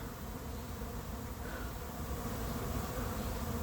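A honeybee swarm hums in a dense, steady drone as it drifts toward a red hive, the buzzing constant and close throughout with no voices.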